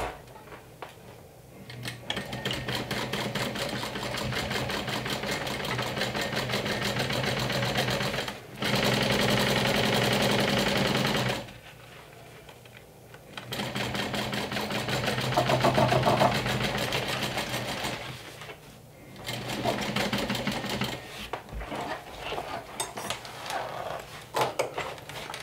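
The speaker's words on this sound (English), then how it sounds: "stitch it with a 3/8 of an inch seam allowance" A sewing machine stitches a zipper seam on a crossbody bag in long steady runs of fast rhythmic whirring, close and loud, broken by short pauses between passes, with no speech.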